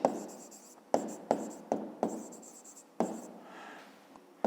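A pen writes by hand in a math lesson on a 5th-grade exercise, with a series of scratchy strokes in bursts, close and fairly quiet, each starting with a sharp tap and then trailing off.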